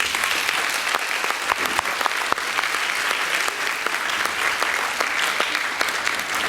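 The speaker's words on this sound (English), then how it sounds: "Can we clap for the Lord again?" Congregational applause at a Divine Mercy family healing conference, with dense, steady clapping from a church audience filling the whole clip, with no speech.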